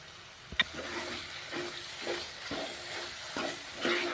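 Masala with thick curd fries in a pan for a capsicum curry, giving a steady close sizzle and hiss broken by several soft stirring scrapes, with no talking.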